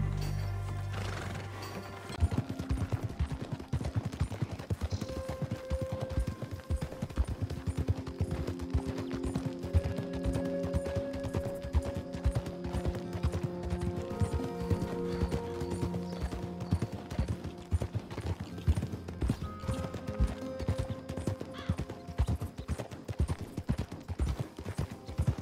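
Horse hooves in Red Dead Redemption 2 clop in a steady, brisk rhythm on hard ground, mixed with game music and a whinny, continuing throughout at moderate level.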